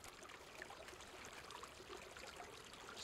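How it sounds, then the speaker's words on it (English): A soft, continuous trickle of a running stream plays faintly in the background of a psychological horror video game set in the Czech Republic, steady with no talk over it. "I hear water running."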